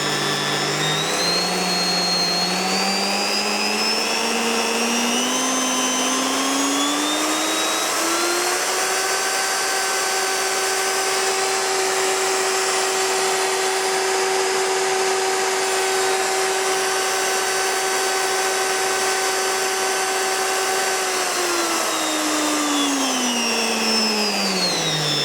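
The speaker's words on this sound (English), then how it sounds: "I'll turn in the dial and crank that figure up." A Bosch PBD 40 bench drill runs steadily, its motor whine rising smoothly in pitch as the speed dial is turned up, holding high, then winding back down; loud, close and continuous, with no talking.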